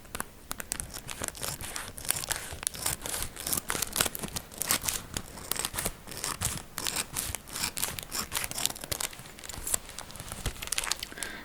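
Crinkly plastic rustles and tears in quick, irregular bursts, close up and continuous, with no talking.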